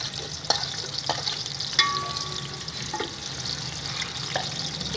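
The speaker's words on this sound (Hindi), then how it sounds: "प्याज को मिक्स तरीके से ब्राउन करेंगे।" Onions frying in ghee in a pan while being stirred, a steady close sizzle with a few sharp scrapes and knocks from the spoon, no talking.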